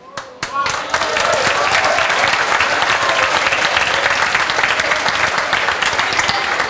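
A crowd breaks into loud, continuous applause after a few sharp opening claps. The clapping stays dense and even throughout, with no speech over it.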